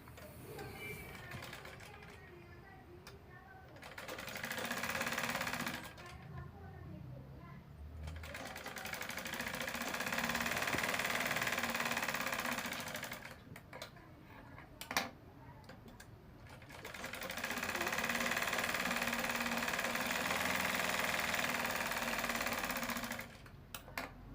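Sewing machine stitching a lined blouse, running in several long steady bursts of rapid mechanical whirring separated by short pauses, close and loud.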